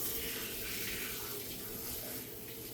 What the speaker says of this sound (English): So I'm going to rinse Ari.